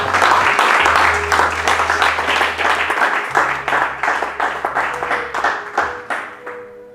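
A church congregation applauding and cheering for the Lord: loud, dense clapping from a crowd with shouts of praise and a low sustained tone underneath, fading toward the end.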